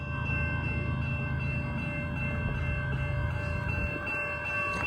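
A Union Pacific freight train with three locomotives labours up the steep Palmdale Cutoff grade, a constant heavy diesel drone with droning tonal lines and rolling rumble, steady and close without speech.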